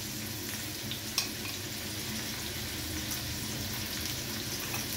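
French fries sizzle in hot oil with green capsicum while being stirred with spices such as black pepper and garam masala, a steady hiss with a sharp clink partway through.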